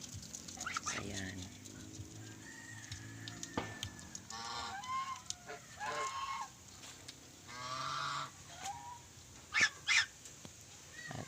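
A pet goose calls from its pen on a farm, giving several separate honking bursts with quiet gaps between them, with other fowl and a voice talking faintly in the background.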